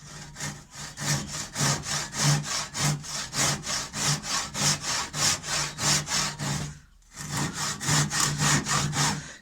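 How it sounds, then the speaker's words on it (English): Panel saw rasps through scrap wood in steady rhythmic strokes, loud and close, roughly two strokes a second, pausing briefly before resuming the same even back-and-forth cutting. "we're going to switch to our panel saw to finish off the job"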